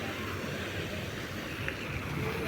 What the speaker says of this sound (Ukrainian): сама вода, шум води, послухати ще шум води трішечки